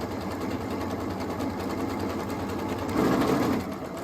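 Sewing machine stitching a Christmas placemat with the seam held at the width of the presser foot while turning a corner, giving a steady close mechanical whir that swells briefly louder near the end.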